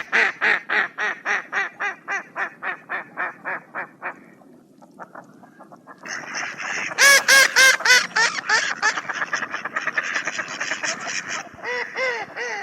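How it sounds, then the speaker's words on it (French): A female mallard duck calls in a run of loud, evenly spaced quacks that slow and soften, then after a short pause a second burst of louder, denser quacking and honking notes follows, close and clear. "Voici le chant de la femelle."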